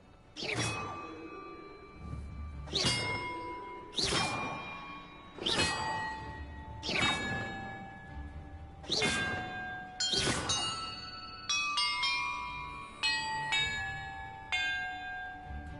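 Bells ringing in the Hogwarts Legacy video game: a series of about seven loud, ringing bell strikes at a steady pace, each decaying slowly, followed by a quicker overlapping cluster of chimes at the end.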